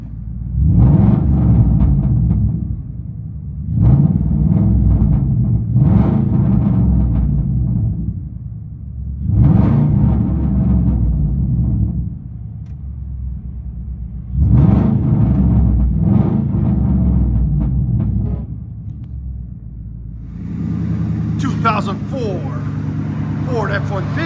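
Straight-piped 2004 Ford F-150 Lariat with a 5.4L Triton V8, true dual 2 1/4-inch exhaust, high-flow cats and 5-inch tips, rumbling loudly from inside the cab in repeated rev bursts, ending in a steadier idle with brief higher noises.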